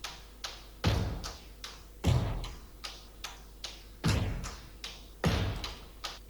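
A percussive drum loop moves around the listener through a Dear Reality binaural panning plugin. Its deep thuds and lighter ticking taps repeat in a steady pattern, fairly quiet and with no voices.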